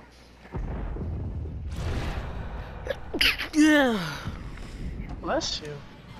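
A single loud, sharp sneeze bursts out near the middle, surrounded by people talking and laughing close by during an online duo game.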